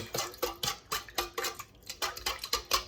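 A spoon or whisk stirs warm milk, yeast and sugar in a bowl, giving about a dozen quick, evenly spaced clinks and scrapes against the sides, close up and alone.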